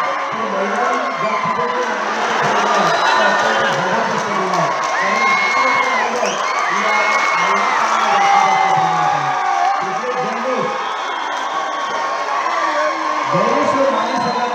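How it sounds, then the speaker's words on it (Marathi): Crowd erupts in loud, sustained cheering, whoops and shouts at the close of a tight kabaddi match, the roar steady and near for the whole stretch, with excited voices rising over it. "गणेश्वर माली संघाकडून जल्लोष झाला बघा."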